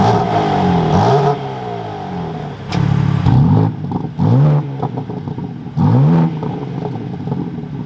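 A 2024 BMW M3 Competition xDrive engine fires up and revs in several sharp bursts, each rising and falling against a steady idle, loud and close with no talking.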